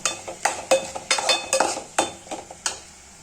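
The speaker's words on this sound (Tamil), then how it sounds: "கீரை நல்லா வதங்கி வேகிற வரைக்கும் அப்பப்போ நம்ம கிளறி விட்டுக்கிட்டே இருக்கலாம்." A spoon scrapes and clanks in a rhythmic pattern against a pan as fenugreek leaves with a little salt sauté. The metallic strokes are close, loud and repeated, with a soft sizzle underneath and no talking.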